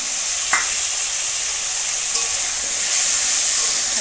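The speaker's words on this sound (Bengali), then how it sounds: "বেটে রাখা আদা জিরে পেস্টটা দিয়ে দেবো" Ginger and cumin paste hits a hot frying pan, giving a steady loud sizzle and hiss that holds throughout, with a couple of brief clinks of stirring.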